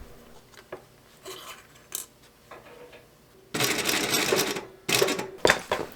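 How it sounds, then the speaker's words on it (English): A sewing machine stitches through the corners of a lined leather dopp kit. Faint taps and handling noises come first, then a loud close burst of machine stitching, followed by two shorter runs. "I'm going to sew through all that, each corner."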